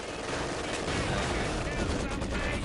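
Dense, continuous gunfire and battle noise in the Company of Heroes 2 video game, loud rapid machine gun bursts layered over a constant roar of combat.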